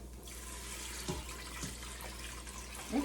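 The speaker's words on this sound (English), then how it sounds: "now I'm going to add 5 cups of water." Steady running water pours continuously as five cups of water fill a pot for bean soup, fairly quiet with a few faint clinks and no voices.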